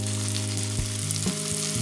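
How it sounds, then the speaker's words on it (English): Onion and cubanelle pepper sauté in a pan after chicken breast is removed, sizzling steadily and close over a low electrical hum, with a couple of faint stirring knocks. "we're just going to let that saute for a couple minutes"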